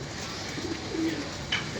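Pigeons perched near a doorway give a few soft, low coos over a steady background hiss. The calls are brief and fairly quiet, with no talking.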